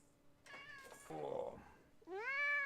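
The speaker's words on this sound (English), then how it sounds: "People, I must show you cat." A house cat meows close up, giving a couple of drawn-out, rising cries with soft sounds in between.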